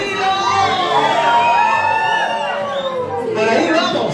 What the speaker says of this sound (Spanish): Chicas solteras, un grito.